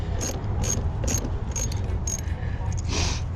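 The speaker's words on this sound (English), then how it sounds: "If it gets tough, go back to your wrench, take it all the way off." A ratchet wrench loosens the battery terminal nut on a 2018 Mustang GT, clicking in several quick bursts of sharp metallic ratcheting close up against a steady background hum.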